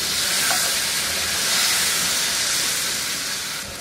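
About half a kilo of small-cut, skin-on potatoes fry in oil for a chana dal and potato curry, giving a steady, loud, close sizzling hiss that holds evenly for several seconds and eases slightly at the end.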